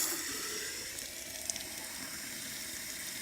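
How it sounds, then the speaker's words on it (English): Leftover engine coolant drains from the main drain low on a Kodiak truck, a faint continuous hiss and trickle of liquid with a small splash partway through. "You'll see as I'm doing this here, you'll see some of the what's left of the coolant coming out of the main drain"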